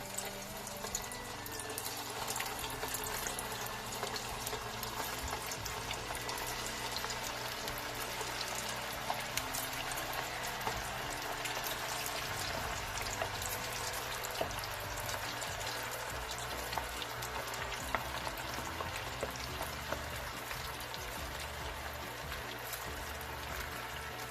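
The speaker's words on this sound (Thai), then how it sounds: "เรามาทอดกันเลยนะคะผมก็จะหย่อนหมูลงไปเลยนะ" Larb pork balls frying in oil over a lowered flame give a steady, dense sizzle and crackle that continues evenly throughout at moderate loudness, with no talking.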